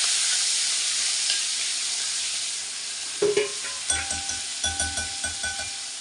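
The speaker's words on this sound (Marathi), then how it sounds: "अद्रक लसूणची पेस्ट टाकायची" Ginger-garlic paste drops into hot oil already sizzling with cumin, mustard seeds and curry leaves for a ridge gourd curry, bringing a steady close frying hiss and then a burst of sputtering with repeated spoon stirs and knocks against the pan.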